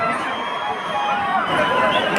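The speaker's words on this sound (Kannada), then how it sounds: "ಟೀಮ್ VIT ಅವ್ರಿಗೆ ಜೋರದ ಚಪ್ಪಾಳೆ ಬರಲಿ" A large crowd at a 2014 event raises steady cheering and applause for Team VIT, a continuous dense roar of voices and clapping filling the whole stretch at close range.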